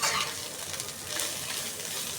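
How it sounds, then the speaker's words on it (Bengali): Bitter gourd (karela) fries in a pan until deep reddish-brown, giving a steady, close, continuous sizzle with light stirring and no talk throughout. "এই ভাজিটা আমি লাল লাল করে ভাজি করে, দেখেন একদম লাল লাল হয়ে গেছে।"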